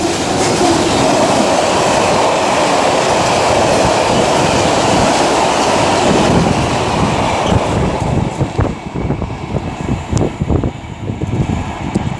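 A GBRF Class 66 freight locomotive and its wagons roaring through Tamworth station, very loud and close with a sustained rumble that breaks into rhythmic clickety-clack of wheels over rail joints toward the end.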